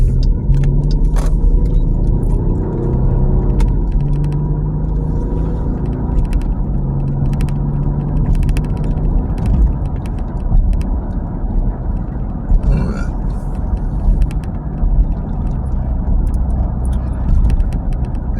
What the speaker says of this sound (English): Here comes the bus the other way.